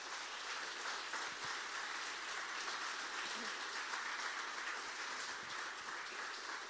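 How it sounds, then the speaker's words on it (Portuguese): Church congregation applauding during a Portuguese-language sermon, a steady, even wash of clapping that holds at a constant level throughout, with some voices mixed in. "Aplauda ao Senhor, meus amados."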